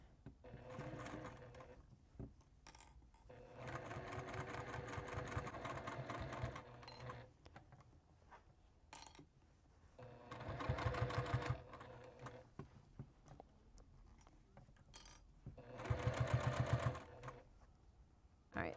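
A sewing machine stitches a scrappy rag quilt Christmas stocking in several bursts of rapid mechanical whirring, including back stitching, separated by pauses with quiet handling sounds; close and moderately loud.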